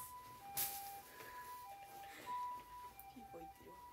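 A faint emergency vehicle siren with its alternating two-tone pee-po wail sounds in the distance under quiet indoor background noise. A brief bump occurs near the start.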